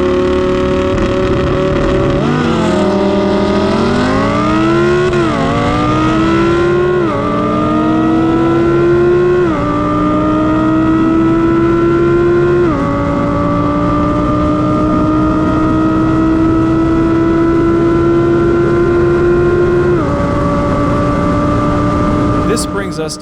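A Dodge Viper and an Audi R8 race from a roll, engines roaring loud and close as they climb through repeated gear changes, with talking over the engine noise.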